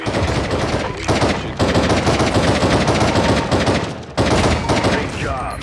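Bursts of rapid SMG fire in a video game's control-point capture mode, loud and dense, broken by two short gaps and heard over game noise.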